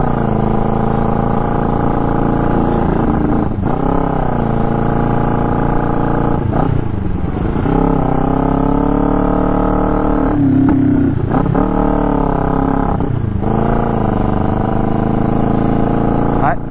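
Kawasaki 500 street tracker engine with flooding carburetors, loud and close, revving up and down in uneven surges and sagging between blips, steady motor drone throughout.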